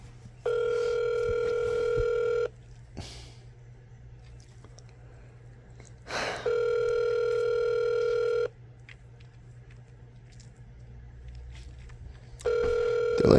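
A telephone call rings unanswered through a handset, giving three long steady ring tones about four seconds apart with quiet hiss in between.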